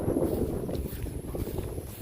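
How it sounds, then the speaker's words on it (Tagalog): Strong wind after Typhoon Leon buffets the microphone in a constant loud rumbling roar with no pauses, close and continuous throughout. "tapos ang lakas pa ng hangin."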